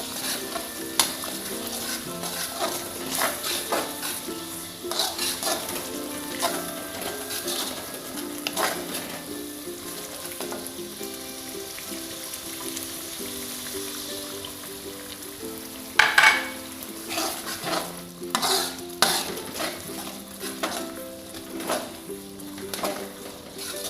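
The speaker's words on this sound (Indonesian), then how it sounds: "Nih bumbu udah mulai matang. Kita kasih air sedikit ya" Spice paste for Indonesian semur eggs sizzles and fries in a pan after a little water is added, with soft stirring scrapes over a steady bubbling hiss and faint birds cooing in the background.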